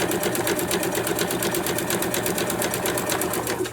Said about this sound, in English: I am going to do my 1/4 inch around, and here again, I'm doing my stay stitching in the beginning and in the end